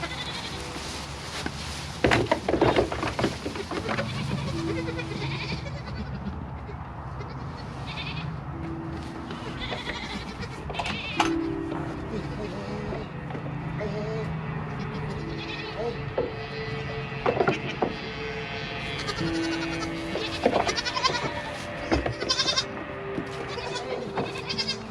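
A dying baby goat on a farm gives repeated short, thin bleats scattered through the recording, close by and mixed with a person talking and handling noises.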